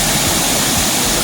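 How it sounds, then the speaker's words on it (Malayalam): Peruvanchana waterfall in Kottayam rushing loudly and continuously, a dense close roar of falling water with no voices. "പെരുവഞ്ചന വെള്ളച്ചാട്ടം"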